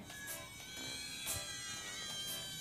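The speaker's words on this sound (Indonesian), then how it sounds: "Tujuh anak kucing itu mengeong bersamaan." Seven kittens mew in the game Food Fantasy, a quick overlapping string of high, thin meows with a few bright chime-like accents, soft and close over light background music.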